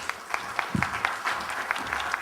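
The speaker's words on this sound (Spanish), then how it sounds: "por favor un aplauso si son tan amables" An audience at a formal closing session applauds, a loose patter of claps that rises and fades over a couple of seconds with a brief murmur underneath.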